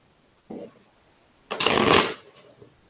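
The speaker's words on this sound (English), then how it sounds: "shuffle these cards up so we can increase our randomness" A short riffle of playing cards, then a longer, louder burst of cards being shuffled and bridged together, heard up close.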